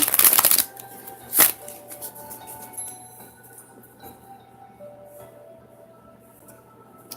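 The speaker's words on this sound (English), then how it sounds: "I'm going to pull a card for you." Oracle cards being shuffled by hand, a brisk riffling burst at the start and another short snap a moment later, then quiet room tone with a faint steady hum.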